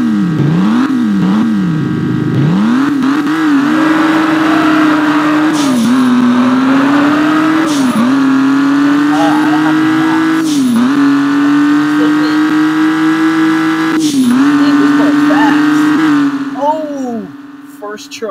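Drag race car engine in the Drag Racing Rivals video game revs and climbs through repeated gear shifts, each marked by a brief dip and rise in pitch, loud and continuous with a voice talking over it.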